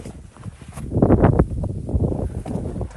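Strong wind outdoors booms against the microphone in uneven low gusts, swelling loudest in the middle and then easing to a steady rumble, with no speech.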